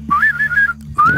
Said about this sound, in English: you have to be able to whistle.